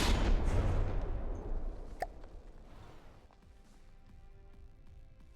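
A cram cannon built in From the Depths fires in the game with one heavy, booming blast that rolls off into a long, fading rumble, followed by a faint mechanical ring.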